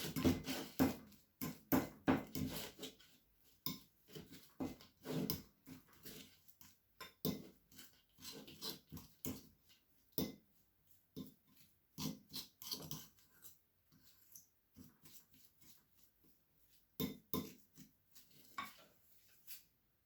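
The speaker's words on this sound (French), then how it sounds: "Bien mélanger l'ensemble." A spoon stirs a fresh tomato and radish mixture in a bowl, producing irregular, close clinks and scrapes in a steady rhythm, fairly soft with short gaps between strokes.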